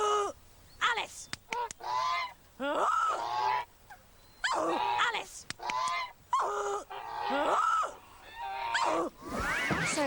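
A woman gives a run of loud, close goose-style honking calls in quick repeated bursts, imitating the bird with her voice, with a brief shout near the end.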